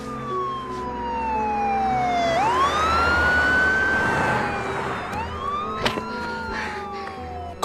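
An ambulance siren wails loud and close, a sweeping tone that slides down, rises and falls again as the vehicle passes, over road noise with a few sharp knocks near the end.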